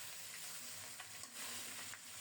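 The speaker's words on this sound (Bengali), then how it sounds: "অনেকক্ষণ পর্যন্ত এভাবে উল্টে পাল্টে ভেজে যাচ্ছি, কিন্তু এখনও ভালোভাবে ভাজা হয় নাই।" A large rohu fish head fries in a pan, turned over repeatedly, with a soft, steady sizzle and a few light stirring clicks, quiet and without speech.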